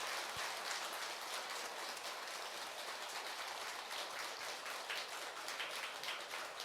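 Sustained audience applause after a Buddhist dharma talk by a monk at a temple service, a dense, even wash of many hands clapping continuously at moderate distance.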